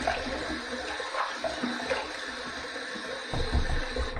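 Running water rinsing a razor during a shave, a steady splashing hiss throughout with small clinks and a louder gush near the end.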